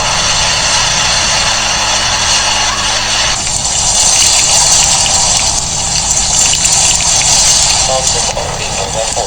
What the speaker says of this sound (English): Flash flood paralyzed the region